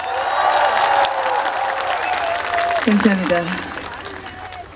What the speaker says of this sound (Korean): 박수 함성이야!